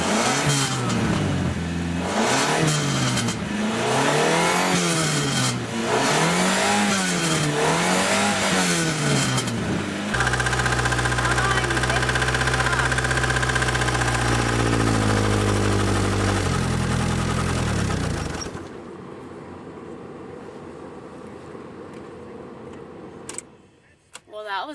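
A car engine cold-starts, then revs up and down in repeated rising and falling swells before settling into a steady idle, loud and close; a voice speaks over part of it.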